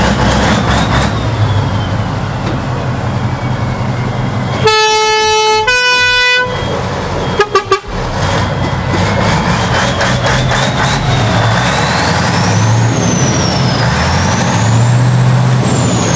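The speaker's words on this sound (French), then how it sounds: "je fais chauffer mon camion de pompier" A big V8 fire truck engine with a homemade coiled exhaust warms up, rumbling loud and steady throughout, broken midway by a few sharp blasts of an air horn.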